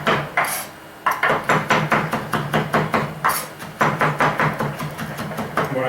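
Knife chopping leeks on a cutting board, rapid close rhythmic taps in quick bursts of several strokes each, loud and crisp with brief breaks between runs.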